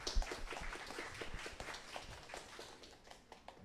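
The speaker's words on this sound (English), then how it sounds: "Everyone, let's give a round of applause to Mr." Faint, steady crowd clapping at an open-mic poetry reading, a dense patter of hand claps running evenly throughout at a distance.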